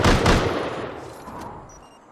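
A custom-built turret in the survival game Rust fires a short, loud close burst of rapid gunshots that rings out and decays over about two seconds, with no voices.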